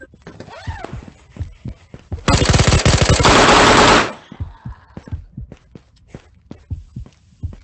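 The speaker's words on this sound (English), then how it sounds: "I grabbed your gun off the floor and sprayed the shit out of him." Loud burst of automatic gunfire sprayed in a first-person shooter game, a dense sustained volley lasting under two seconds, surrounded by scattered footsteps, clicks and a voice talking quietly before and after.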